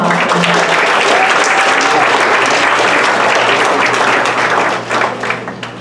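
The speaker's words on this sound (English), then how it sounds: "let's give another round of applause" Loud, sustained applause from an audience at a founders showcase event, dense steady clapping that carries through the whole stretch and thins slightly near the end.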